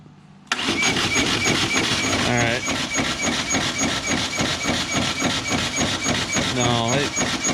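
An engine is cranked over and over without catching, a steady rhythmic starter churn that starts abruptly and runs loud and close, with a voice speaking over it.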